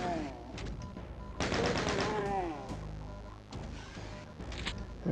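Rapid gunfire from gunner enemies in the video game Doom, bursts of fast repeated shots over a thick layer of game sound effects and music, loud and continuous with brief gaps.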